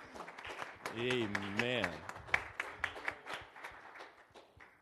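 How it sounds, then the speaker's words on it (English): Church congregation claps hands together during a Pentecostal evening service, a dense burst of applause mixed with a preacher's voice and some singing. "Give God another hand clap tonight, church."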